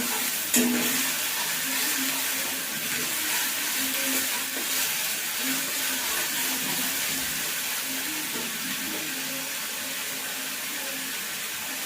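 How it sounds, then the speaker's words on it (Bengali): Chopped onions fry in a pan while a rui fish dish with green mango paste is being prepared, giving a steady, close sizzling hiss with occasional stirring scrapes throughout and no talking. "পেঁয়াজটা ভালো করে ভেজে নেব।"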